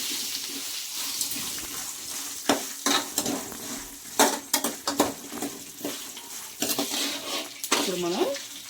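Asafoetida being stirred into a pan for an Ugadi mango dish, with scraping spoon strokes and soft sizzling in an irregular rhythm, close and fairly quiet.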